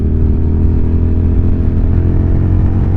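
A Suzuki TL1000R V-twin sport motorcycle engine running loud and close, a deep, rough, pulsing two-cylinder drone that holds steady throughout with no talking.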